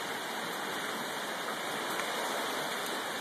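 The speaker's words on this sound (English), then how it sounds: "It's raining!" Rain falls in a steady, dense hiss of drops on outdoor surfaces. The sound is even and fairly quiet from start to finish, with no voices.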